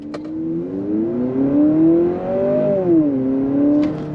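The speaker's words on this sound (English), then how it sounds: "So you can hear that simulated shift." A 2023 Honda CR-V hybrid accelerates from a stop, its engine tone rising smoothly, then dropping abruptly in a simulated gear shift around three seconds in before climbing again, moderately loud and close.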